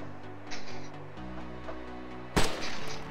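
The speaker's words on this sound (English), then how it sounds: "First shot hits the ATV, second kills the back rider" A single loud rifle shot at a vehicle in DayZ, one sharp crack with a trailing echo that stands out over the low drone of an engine.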